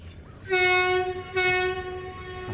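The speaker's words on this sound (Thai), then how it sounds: "รถไฟมาแล้วนะครับ" At the River Kwai bridge in Kanchanaburi, an arriving train sounds two loud, close horn blasts, the second shortly after the first, over a low rumble.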